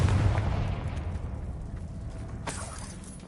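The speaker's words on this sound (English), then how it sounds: "Confringo!" Confringo fire blast spell exploding in the Hogwarts Legacy video game: a loud booming burst at the start that rumbles and decays, followed by a second sharp crack of impact partway through, with no talking.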